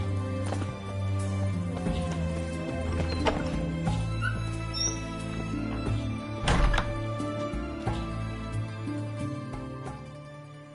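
Roach the horse galloping in The Witcher 3, rhythmic hoofbeats layered under game music and ambience, with a heavier thud near the middle.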